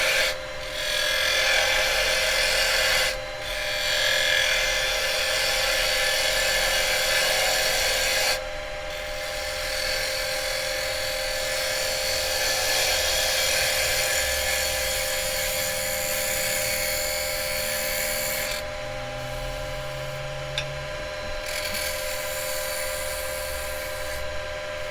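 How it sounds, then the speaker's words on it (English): A carbide round tool cuts a dovetail into scrap wood spinning on a lathe. A steady, loud, close rasping scrape runs continuously over the machine's hum, easing off briefly a few times. "I can actually put my dovetail on with the round tool"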